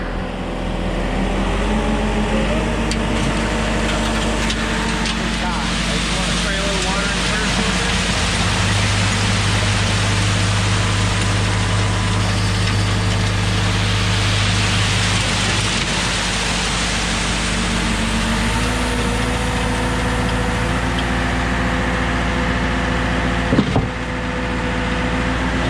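A trailer-mounted concrete grout pump runs steadily and loudly, pumping grout up a water tower, with a constant dense mechanical roar and a low droning hum that shifts slightly partway through.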